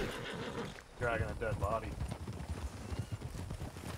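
A horse in the Red Dead video game gives a short whinny, with clip-clop hooves plodding along beneath steady talking.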